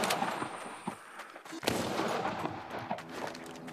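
Pistol shots fire in the VR zombie game Arizona Sunshine, a few sharp close cracks spaced irregularly among game ambience and noise, with no clear speech.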